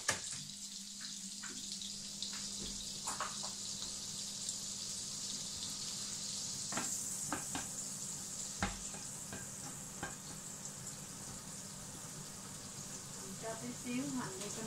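Beef roulades fry in butter in a pan, giving a steady, close hiss with occasional stirring clatter and faint background noise throughout.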